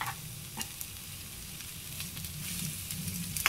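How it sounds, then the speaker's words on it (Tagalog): Sliced eggplant frying in a pan with a constant close crackling sizzle, dotted with occasional sharper pops and faint utensil scrapes. "Tapos habang piniprito natin"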